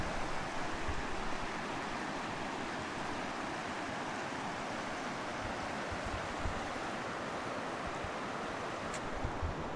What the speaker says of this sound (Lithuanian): Va upė.